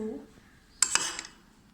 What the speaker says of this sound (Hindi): ये 4 टेबल स्पून अब हम योगर्ट इसमें ऐड कर लेते हैं